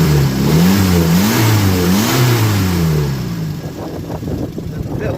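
A Renault 10 engine with a suspected small exhaust leak revs up and down repeatedly while driving on a wet road, loud and close, then settles into steadier running with road and rain noise.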